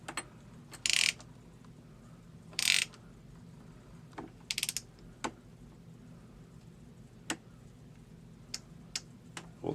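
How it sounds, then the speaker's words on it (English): A fastener on the handle of a Lee reloading press being loosened with a tool, heard as a few sharp metallic ratchet-like clicks and short rasping bursts spaced out over a quiet background. "So I'm just going to loosen up on this fastener a little bit."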